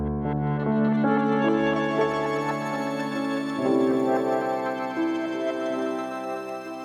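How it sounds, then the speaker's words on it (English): A piano processed through a Guitar Rig crystallizer effect plays sustained chords with shimmering, glassy pitched echoes stacked above them. The sound stays full and steady throughout, with no voice over it. "this just adds a really cool crystallizer effect"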